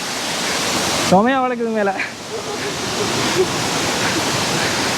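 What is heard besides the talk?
water flowing forcefully near a waterfall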